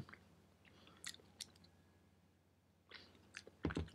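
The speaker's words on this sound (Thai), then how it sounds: "แต่เดี๋ยวลองชิมดูก่อน" Peanut mochi from Taiwan is chewed quietly close to the microphone: soft sticky mouth sounds with a few sharp bites and crunchy clicks scattered through a hushed room, a denser cluster near the end.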